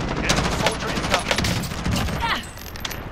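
Rapid bursts of video game gunfire aimed at shooting an enemy out of the sky, dense crackling shots repeating close and loud for a few seconds, with a voice faintly underneath.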